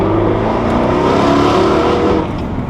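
V8 car engine revving hard while driving, a loud, continuous growl with rising and falling harmonics that fills the whole clip, close and without talk.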